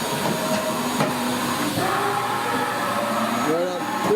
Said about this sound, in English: This machine is just running its warm-up program.